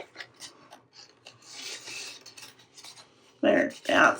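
Paper trimming on a vintage Christmas tag gives soft, close rasping and scraping strokes, irregular and fairly quiet, ending with two louder rubbing scrapes.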